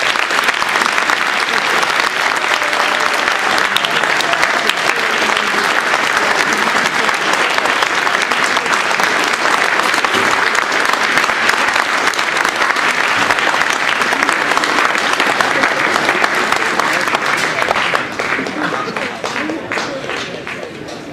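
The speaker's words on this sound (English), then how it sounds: "can we just give one more round of applause for everyone?" Audience at an Eagle Scout Court of Honor ceremony gives a loud, sustained round of applause that holds steady for about eighteen seconds before tapering off toward the end.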